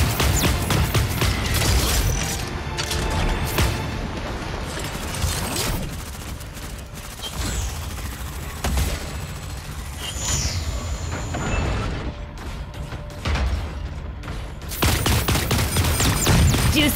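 Rapid gunfire bursts from the mech shooter game Super Mecha Champions, loud and close, alternating with mechanical clanks, whooshes and quieter gaps before a heavy volley returns at the end.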